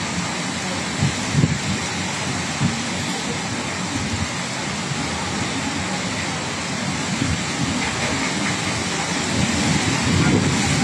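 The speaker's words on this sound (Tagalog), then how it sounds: "Malakas ang hangin" Strong wind roars in a steady, loud wash with heavy rain beating down in Northern Samar, a dense continuous broadband noise with gusty low rumbles and no pause across the whole stretch.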